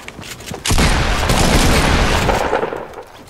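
Gunfire in the video game Fortnite: after a brief quieter start, a loud, sustained burst of rapid shots and booming impacts erupts close by, holding steady for about two seconds before tapering off.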